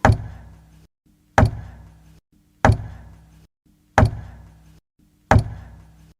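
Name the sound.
regular knocking from the other side of a wall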